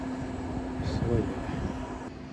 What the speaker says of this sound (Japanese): 函館なんていつも飛行機飛んでるから